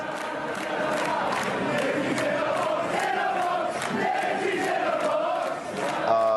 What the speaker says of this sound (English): They were cheering